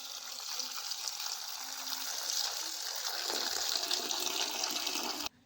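Water pours steadily into a cooking pot while preparing bhokar (wild forest vegetable) bhaji, a continuous close gushing splash that runs for about five seconds before stopping abruptly.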